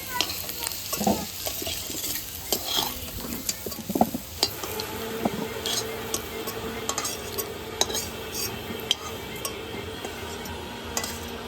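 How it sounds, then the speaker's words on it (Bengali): Potatoes fry in hot oil in a home kitchen, giving a steady, continuous sizzle broken by frequent sharp clinks and scrapes of a stirring spoon against the pan. "এবার আমি আলুটাও ভেজে নিলাম"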